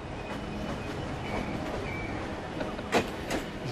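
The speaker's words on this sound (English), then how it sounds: "There's just so many tracks, so many trains constantly coming in and out." Trains move through a vast, busy railway station with many tracks, heard from the rooftop as a distant rumble of rolling stock under a high metallic squeal and a couple of louder clanks near the end.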